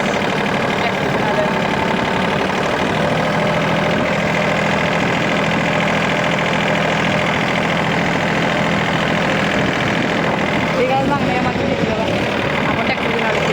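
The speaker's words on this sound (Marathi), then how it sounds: "आपण ट्रॅक्टर घेऊन आलो पुढं" A farm tractor's engine idles loudly and steadily close by, a constant mid-low rumble with a slight knocking texture throughout.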